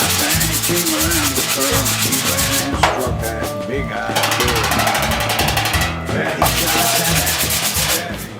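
Steady, loud block sanding of body filler on the hood of a 1961 Chevy Apache, continuous abrasive rubbing strokes with brief pauses, close and alone.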